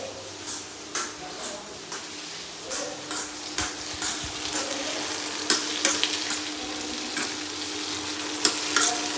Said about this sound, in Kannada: ಹಸಿ ಮೆಣಸಿನಕಾಯಿ ಉಳ್ಳಾಗಡ್ಡೆ ಎಣ್ಣೆ ಹಾಕಿ ಬೆಚ್ಚಗೆ ಮಾಡಬೇಕು